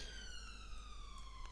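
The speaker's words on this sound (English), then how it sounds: "Oh, ambulance." Ambulance siren from the RollerCoaster Tycoon 2 video game, a steady high-pitched wail with stacked tonal harmonics, sustained and fairly loud throughout.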